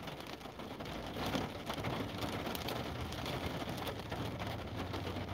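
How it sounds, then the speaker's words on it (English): Steady rain falls outside as a constant, even hiss of drops, moderately loud and alone with no talk. "Sounds like, yeah, it's raining."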